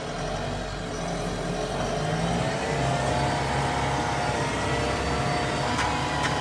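A McCormick X4.100F tractor with a P3-Drive automatic transmission pulls away in an orchard, its engine a steady, close, loud drone with a slight rise in pitch as it moves off.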